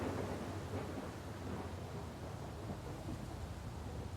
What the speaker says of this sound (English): crackling of lightning